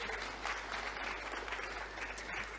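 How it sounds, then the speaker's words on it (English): Audience at a tech conference applauding, a dense continuous patter of many hands clapping together, steady and even throughout, heard from the stage at moderate distance without talk. "give yourself a big round of applause for being here"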